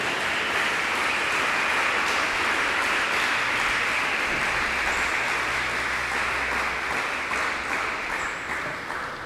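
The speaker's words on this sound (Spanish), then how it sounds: "Dele un aplauso al Rey." A church congregation applauds during a Spanish-language sermon, a sustained and even wash of clapping from many hands that holds steady and fades slightly at the end.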